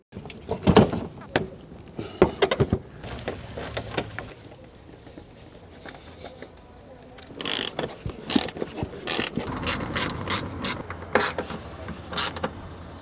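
Hand ratchet clicking as screws are driven in on a Citroen Xsara Picasso 2.0 HDI, quick bursts of ratcheting clicks in several separate runs, close and fairly loud, with some scraping and handling noise between them and no talk.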